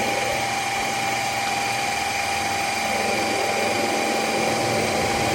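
An ice cream maker churns vegan strawberry rhubarb ice cream with a loud, steady motor drone and mechanical whir, close by and unbroken.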